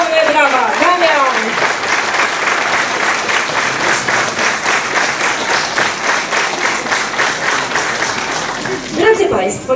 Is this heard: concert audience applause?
yes